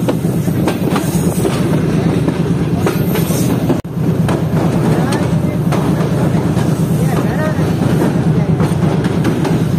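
Tezgam passenger train rolling along the tracks in Pakistan near the Malir River bridge, a steady loud rumble with rhythmic clickety-clack of wheels over rail joints throughout, while a voice talks over it.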